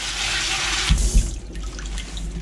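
Water spraying from a hose into a filter bag of bubble hash during ice water extraction, a hissy rush that stops after about a second, followed by quieter trickling and dripping.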